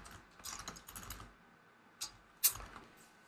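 Keys clatter on a computer keyboard in quick, light bursts at first, then stop, followed by two sharper isolated key taps close to the microphone.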